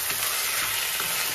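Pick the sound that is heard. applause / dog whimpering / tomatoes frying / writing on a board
tomatoes frying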